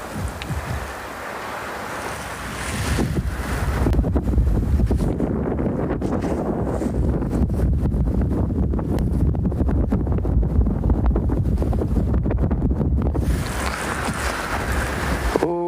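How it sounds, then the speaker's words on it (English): Steady outdoor wind gusting on a breezy morning during a sunrise safari, a continuous loud rushing roar buffeting the microphone, easing slightly at the start and end. "It's a nice breezy day."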